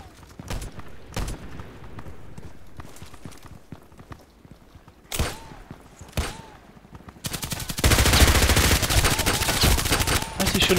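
Gunfire in the online shooter Contract Wars: scattered single shots and short volleys, then a dense, loud, sustained rapid burst that carries through the final seconds.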